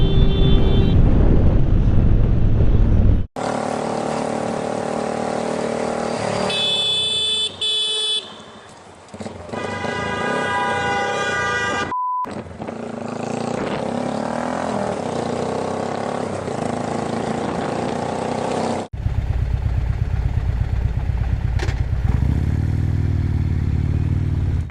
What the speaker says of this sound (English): Biker rides into the opposite lane when car pulls out in front of him.